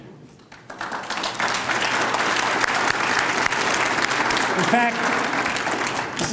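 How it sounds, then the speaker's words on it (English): A law school lecture audience bursts into sustained, dense applause after a brief spoken phrase, the clapping holding at a steady, loud level to the end. "why don't all of you and your family members please stand up and get a round of applause for your generosity"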